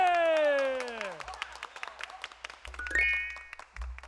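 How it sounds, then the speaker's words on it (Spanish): Scattered hand claps from a small audience for the barbecue cook at a Capitán Sanata children's show, following a loud descending sliding tone, with another rising tone near the end. "¡Un aplauso para el asador, che!"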